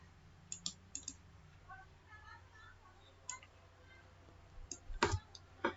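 A few sharp computer mouse clicks spread across a quiet stretch while a router is configured, with a quick double click near the end, faint and close.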